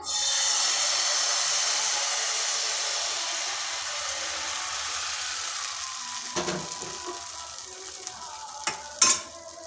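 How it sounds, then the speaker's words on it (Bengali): Batter cooking on an oiled pan for patishapta pitha, a steady, bright hiss of sizzling that slowly eases, with a few light utensil taps and scrapes near the end. "আবারও একটু তেল ব্রাশ করে দিচ্ছি দিয়ে দিচ্ছি ব্যাটার"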